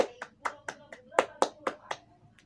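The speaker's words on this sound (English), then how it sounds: "Give applause for all." A small group in a classroom claps hands in a loose, uneven rhythm, about ten distinct claps over a couple of seconds, close by.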